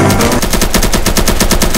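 Loud, rapid automatic gunfire in the Roblox game Evade, a steady stream of close shots pulsing evenly from start to finish.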